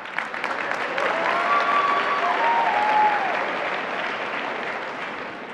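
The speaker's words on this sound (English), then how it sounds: "yes, you can clap." Applause from a large youth-convention plenary audience, a steady dense wash of clapping that swells in the middle and holds at full strength, loud and continuous throughout.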